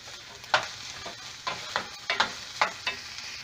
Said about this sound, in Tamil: எண்ணெய் ஓரளவு சூடானதுக்கப்புறம் இப்போ வந்து நம்ம வெங்காயம் போட்டு உணக்க போகிறோம்